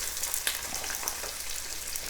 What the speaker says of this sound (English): we just basically sauteing them.